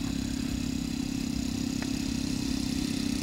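A model airplane engine idles steadily with its throttle trim cut down, a low, even, fairly quiet drone with no change in pitch, heard alone at a flying field.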